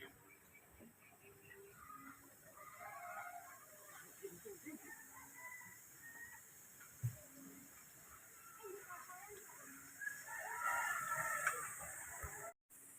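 Chickens cluck from up in a mango tree during a flood and a rooster crows faintly in the distance over a steady outdoor background hum, with occasional soft voices.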